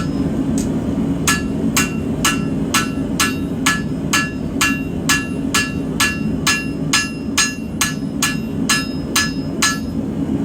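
A hammer drives the nose of a forged point back in on an anvil with about twenty sharp, ringing blows at a quick, even pace over a low, steady background rumble.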